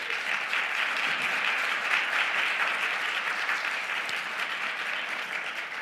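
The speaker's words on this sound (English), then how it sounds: "And let's give them a round of applause." A room full of people applauding at a community Day of Collective Action event, steady dense clapping held at an even level for several seconds without a break.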